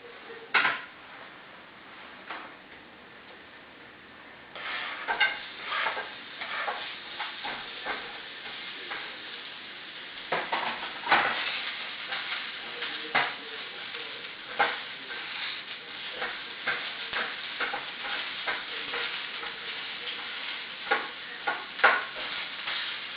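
Garlic browning in oil in a pan, with onion then added: a steady close sizzle broken by frequent scraping and clinking of a utensil against the pan, growing busier and louder partway through, with no talking.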